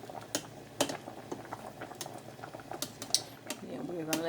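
Shrimp boil simmering in a pot, soft bubbling and faint irregular ticks and pops at low level, with scattered small clinks and a quiet voice now and then.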